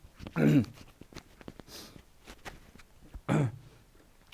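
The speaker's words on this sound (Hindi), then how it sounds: "खांसी बहुत ज़्यादा हो रही है।" Two loud, harsh coughs, one near the start and one toward the end, with faint breathing and small noises between them.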